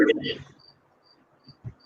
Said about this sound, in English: There's crickets outside.